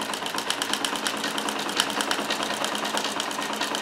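A Necchi Supernova Ultra freearm sewing machine stitches a cam pattern with a continuous rapid ticking hum, close and steady throughout, with no speech.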